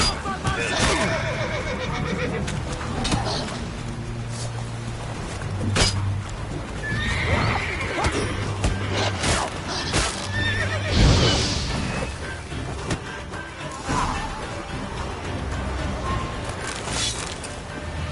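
Roach, Geralt's horse in The Witcher 3, whinnies and trots with steady clip-clop hooves, the neigh rising clearly midway while game music and scattered voices play underneath.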